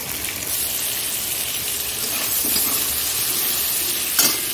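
Yardlong beans fry in a pan with a steady, even sizzle, with occasional stirring scrapes and a brief clink near the end, heard up close with no talking.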